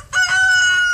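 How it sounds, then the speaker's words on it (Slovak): A rooster crows once, a loud, strained call that bursts in sharply and holds steady for most of a second, close by and clear. "kohút sa pridal"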